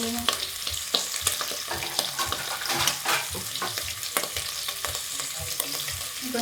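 Beef and vegetables sautéing in a single pot with black pepper and paprika for fried rice, a dense wet sizzle with frequent stirring clatter, moderately quiet and close, no voices.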